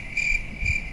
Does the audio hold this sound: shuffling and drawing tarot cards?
no